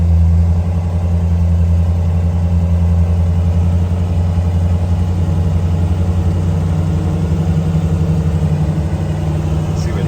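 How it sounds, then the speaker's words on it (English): An International Scout 300 with a T18 transmission crawls along in first gear and 4 low, its engine holding a steady, loud low drone that barely changes in pitch throughout. "here we go with the T18 in the Scout 300 in gear. First gear or low"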